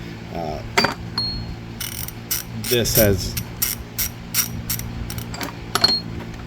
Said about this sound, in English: I love this ratchet. This is my favorite ratchets.